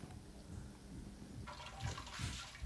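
Home-brewed wort for an American light lager recirculating through a mash tun with the top plate back on, a soft continuous trickle and splash of liquid that swells slightly toward the end.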